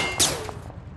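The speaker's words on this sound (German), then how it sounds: "Von links kommen noch Schüsse irgendwo." A single sharp, somewhat distant gunshot rings out in a PUBG: Battlegrounds match, followed by faint game ambience.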